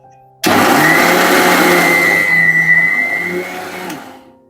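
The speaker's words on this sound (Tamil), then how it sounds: "இப்போ வந்து இது கூட நம்ம நாட்டு சர்க்கரையும் சேர்த்து அரைச்சி எடுத்துக்கலாம்" A mixer grinder whirs steadily as it grinds black rice flour together with country sugar, a loud continuous motor whine with a high pitched tone, starting abruptly and running for about three and a half seconds before cutting off.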